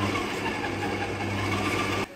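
Egg whites being beaten, likely with an electric mixer: a steady, close, whirring motor hum with a faint rhythmic buzz that drops off abruptly just before the end.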